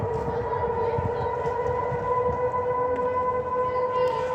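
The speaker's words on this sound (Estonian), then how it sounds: "Ja taas kord sireenid Tallinna kohal." Civil defense air-raid sirens over Tallinn, Estonia wail continuously in steady sustained tones, echoing from a distance over a murmur of city noise.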